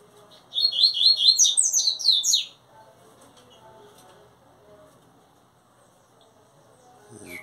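A bright, rapid burst of high warbling birdsong from a double-collared seedeater lasts about two seconds, then faint background murmurs follow and a soft thump closes the clip.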